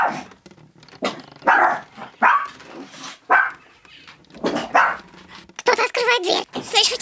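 A dog barks and growls in short bursts to scare off an intruder in a dark house at night, mixed in among animated speaking voices that may be imitating the barks.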